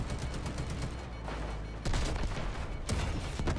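Gunfire in the shooter game Delta Force: Hawk Ops, dense overlapping bursts of automatic fire that continue steadily throughout, fairly loud and unbroken.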